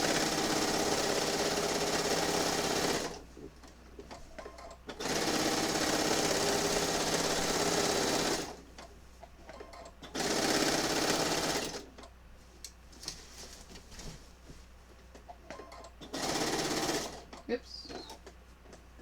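A sewing machine quilting through pinned fabric runs in several loud bursts of steady whirring, separated by quieter pauses where a person talks and handles pins.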